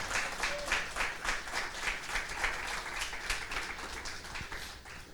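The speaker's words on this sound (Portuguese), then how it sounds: "Você quer aplaudir?" A church congregation applauds during a sermon, a steady wash of many hands clapping at moderate distance that holds evenly for several seconds without a break.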